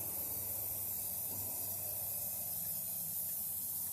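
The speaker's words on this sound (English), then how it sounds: "Spray paint, spray paint, spray paint." A steady, even hiss of spray paint from an aerosol can runs continuously throughout, quiet and close, with a faint low hum underneath, painting a rusty metal cabinet.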